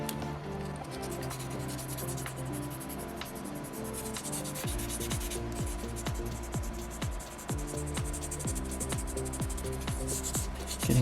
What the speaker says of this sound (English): when it comes to sanding, you don't have to worry about a grain when you're sanding soapstone